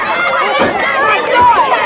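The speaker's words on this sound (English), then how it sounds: "the crowd definitely picking up that Nothing Neater chant" A wrestling crowd at an independent show in Mack's Creek, Missouri chants "Nothing Neater" in a loud, dense roar of many voices, with an announcer's talk mixed in over it.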